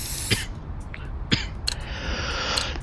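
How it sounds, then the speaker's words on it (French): A person coughs a few times in harsh, sharp bursts close to the microphone while playing a Counter-Strike Wingman match on Overpass, with hissy game noise underneath. "Oh, excusez-moi pour cette toux qui est atroce."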